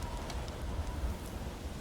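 Steady rain pours down in a stormy setting in God of War Ragnarök, a dense, continuous hiss of drops with a low rumbling undertone, no distinct thunderclaps standing out.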